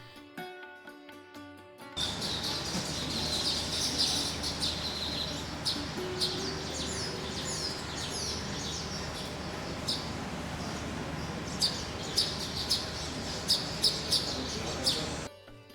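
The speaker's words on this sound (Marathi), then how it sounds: "याला घरटे करायला किती संकट येत आहेत पहा. करडा कोतवाल पक्षी याच्याशी भांडतोय." A golden-backed woodpecker and an ashy drongo fighting outdoors, with a dense run of sharp chirps and squeaky calls, several loud bursts near the end, close by and without talk.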